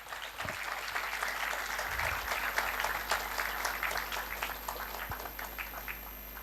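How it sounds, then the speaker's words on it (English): An audience at an international conference claps steadily through a felicitation ceremony for a training academy, a dense, sustained round of applause that holds for several seconds. "Please welcome them with a big round of applause."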